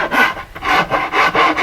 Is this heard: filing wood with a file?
yes